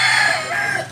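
A Black Kini bullstag rooster gives a short, loud, close crow that fades out within a second.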